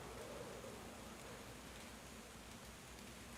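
Hard rain falling outside, caught by a window mic as an even, hissing wash of noise that stays steady and soft for the whole stretch, with no voices.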